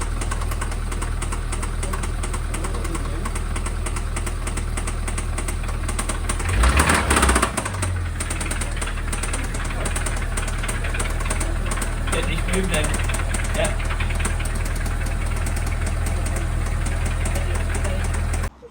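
A damaged Ford Fiesta ST bought at auction runs with a steady close idle and rough, knocking undertone, a brief louder surge in the middle and talk over it.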